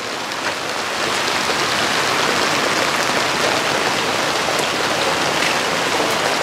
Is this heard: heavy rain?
yes